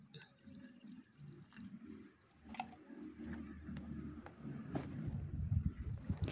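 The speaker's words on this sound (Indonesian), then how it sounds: "Kemudian tambahkan 400 cc air dingin, masukkan secara bertahap. sambil diaduk." Cold water poured gradually into a tempeh-seasoning flour batter while it is stirred, heard as a running, dripping liquid trickle with soft sloshing that builds louder toward the end, close by.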